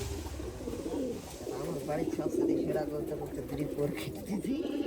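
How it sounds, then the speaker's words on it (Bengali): Pigeons coo at a home loft, a steady low burbling cooing that carries through the whole stretch, with people talking over it nearby. "এটা সেরা কবুতর এই দুইটা"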